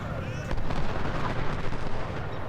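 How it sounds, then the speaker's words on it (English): Artillery fire in the Ultimate General Civil War strategy game, a dense continuous rumble of booming cannon blasts and crackle at steady loudness, with no voice over it. "They're coming under artillery fire and they should be moving into range"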